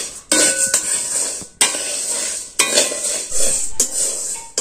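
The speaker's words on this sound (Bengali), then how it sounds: "আমি কিন্তু এটা শুকনো খোলায় ভেজে নিচ্ছি।" Sago is dry-roasted and stirred in a pan for laddus, with a spoon scraping and clattering against the metal in repeated bursts separated by brief pauses, close and fairly loud.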